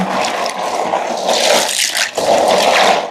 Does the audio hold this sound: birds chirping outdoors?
no